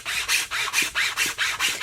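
A chainsaw file cuts notches into an Osage orange wooden bow, with about eight steady rasping strokes in an even back-and-forth rhythm, close and alone.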